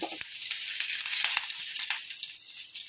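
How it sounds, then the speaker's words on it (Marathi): Mustard seeds splutter in hot oil as a tempering for chutney, giving a close, continuous crackling sizzle peppered with sharp little pops, with no voices over it. "आपल्या राईला चांगलं तळतळ होईल तोपर्यंत ठेवायची"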